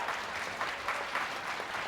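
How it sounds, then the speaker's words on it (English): At a middle school drama club production of Matilda Jr., the audience applauds in a brief, steady wash of many hands clapping, moderately loud and continuous throughout. "Yes, clap for that, clap for that."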